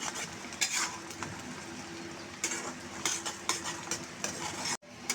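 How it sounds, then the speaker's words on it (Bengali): Whole garlic cloves fry in mustard oil for a loitta shutki bhuna, giving a close, continuous sizzle with repeated metallic stirring clinks and scrapes, cut off by a brief silent gap near the end. "বন্ধুরা রসুনটা একটু ভেজে নিছি"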